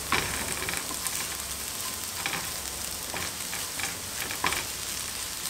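Egg bhurji, spiced scrambled eggs, frying and being stirred in an open pan while excess moisture cooks off, with a continuous close sizzle broken by several spatula scrapes and no talking.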